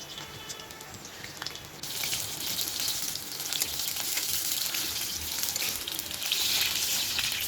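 Teasel gourd fritters with a mustard filling frying in oil, with a quieter start and then a loud, dense, continuous sizzle and crackle for the rest of the clip.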